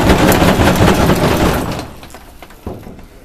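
A waist gunner's heavy bomber machine gun fires a loud, rapid, sustained burst of rounds up close, then cuts off and leaves a fading rattle with a few scattered knocks.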